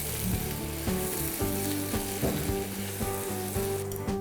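Onions fried golden with green chilies sizzling in a pan as grated ginger goes in, a constant close hiss with occasional stirring clicks, under a steady layer of background music.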